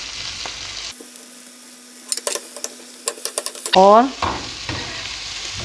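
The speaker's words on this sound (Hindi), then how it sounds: "छोटा सा प्याज मैंने लिया है, एक छोटे साइज़ का, बहुत छोटे साइज़ का लिया प्याज। और साथ ही शिमला मिर्च डाल के इनकी मैं ज़रा हल्की हल्की भुनाई कर लूँगी" Small chopped onion and bell pepper are stirred in a hot pan, giving scraping stir clicks and a light sizzle, with a brief voiced word and kitchen background noise around it.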